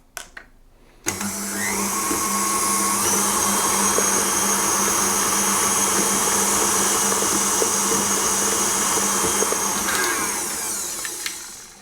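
An electric mixer whirs into cookie dough with lemon zest for soft lemon cookies, starting abruptly after a brief quiet moment and running loudly and steadily for about ten seconds before trailing off.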